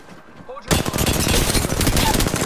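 Rapid automatic gunfire in a competitive 2K video game, a loud sustained burst of shots that kicks in abruptly and keeps rattling steadily to the end.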